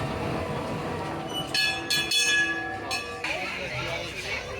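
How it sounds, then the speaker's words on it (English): Rumbling rail cars of the Runaway Mine Train roller coaster at Alton Towers clatter along the track with a sustained high whine and screeching wheels, loud and close. "It's the Runaway Mine Train."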